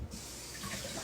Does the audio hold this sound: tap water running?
yes